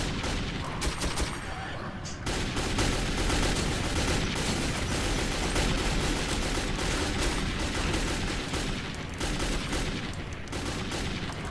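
Gunfire in the video game Metro 2033 roars as dense, continuous bursts of shots and booms, loud and unbroken across the whole stretch with little pause.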